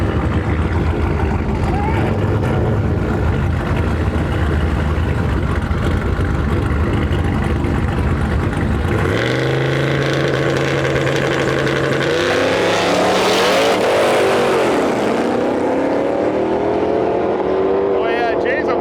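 Drag racing at Interlake Dragway: a boosted 5-liter car against a Dodge Hellcat roars loudly off the line, engines revving hard and fading, with an announcer talking over the noise.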